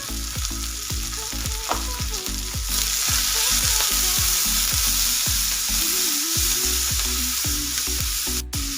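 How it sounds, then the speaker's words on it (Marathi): Green chillies fry in hot oil in a pan, giving a steady, loud sizzle throughout with occasional stirring, while music plays in the background. "मिरच्या घेतलेल्या आहेत ना तेलामध्ये आपल्याला एक दोन मिनटं फ्राय करून घ्यायचे"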